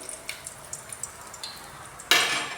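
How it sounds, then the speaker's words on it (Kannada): Crushed garlic hits hot coconut oil in a tempering pan after a few faint ticks and drips, then bursts into a loud, close, steady sizzle. "2 ಬೆಳ್ಳುಳ್ಳಿನ ಜಜ್ಜಿ ಹಾಕ್ಕೊಂಡಿದ್ದೀನಿ"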